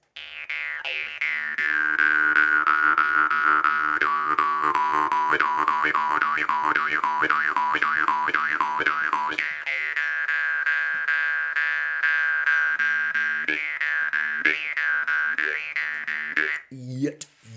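A copper jaw harp with a flared end twangs with a buzzy, wobbling tone, its pitch and vowel-like color shifting rhythmically, played close and loud throughout.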